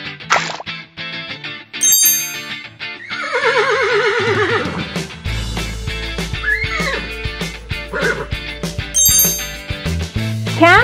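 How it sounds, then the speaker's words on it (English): A horse gives a loud, shrill neigh over a busy musical backing with bright chimes and dings, and lower tones pulse underneath throughout. "Horse."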